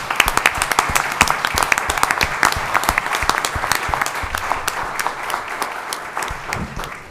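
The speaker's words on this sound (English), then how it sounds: "If you would please give these gentlemen a round of applause" A board of commissioners meeting audience applauds line workers being honored, loud, dense clapping from a room of people that continues steadily and tapers slightly toward the end.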